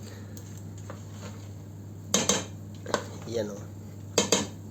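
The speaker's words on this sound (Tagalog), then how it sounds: "Kailangan lang natin haluin ng haluin para hindi na dikit sa ilalim." A spoon stirs a sticky biko rice cake mixture in a metal pot, scraping the bottom with several sharp clanks and softer scrapes over a steady low hum; a voice speaks briefly.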